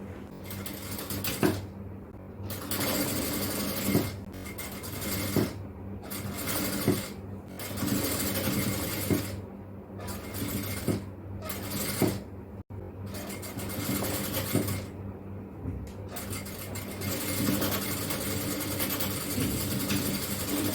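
Sewing machine stitching the back panel joint of an XXL yoke nighty, a steady mechanical hum broken by several short pauses between bursts of running.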